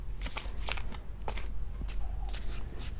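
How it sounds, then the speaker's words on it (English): Tarot cards are shuffled and drawn: quick papery riffles and flicks come in close, crisp bursts, without speech. "Let's pull another card."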